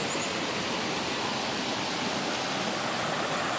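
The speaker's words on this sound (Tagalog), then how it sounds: "Kung narinig nyo, may tubig na." River water rushes continuously with a broad, steady hiss at a river trekking spot in Tanay, with no voices.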